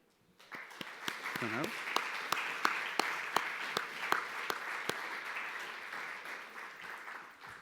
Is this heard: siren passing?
no